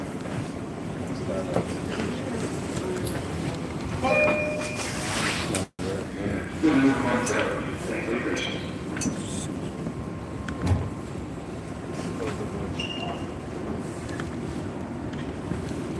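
Steady, loud rumble and rush inside a New York City 5 express subway train heading toward Eastchester–Dyer Avenue, with one brief dropout midway and a voice speaking over the noise.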